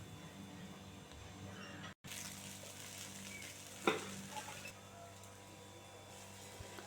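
A lentil dosa fries on a pan with a faint, steady sizzle throughout, a brief dropout near the start, and a light tap of a spatula partway through.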